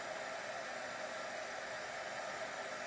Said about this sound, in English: And then I'm going to get my heat tool.